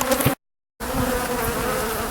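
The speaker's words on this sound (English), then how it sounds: "This is like a cloud of bees just all around me, just pummeling me every moment." A dense swarm of agitated honeybees buzzes loudly and continuously close around the microphone during a hive removal in Godley, Texas, the drone broken by a brief dropout of total silence before resuming just as thick.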